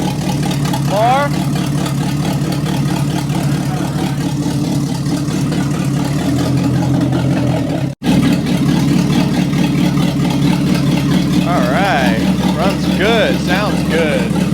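Loud, raw engine idling from a 1962 Cadillac DeVille with no exhaust, run after over 30 years parked, a rough, throaty rumble, steady throughout, while voices talk over it nearby.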